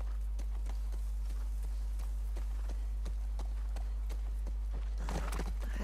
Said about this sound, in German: Wir reiten herum und halten Ausschau.